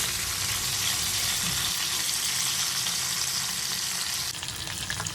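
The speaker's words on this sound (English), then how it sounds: "very gently we will flip the fish pieces and fry the other side another 1 minute till they are golden brown" Pabda fish pieces fry in a pan with a loud, dense, continuous sizzle close by, easing slightly toward the end, with no talking.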